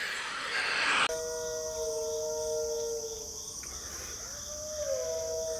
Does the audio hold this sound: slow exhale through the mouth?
no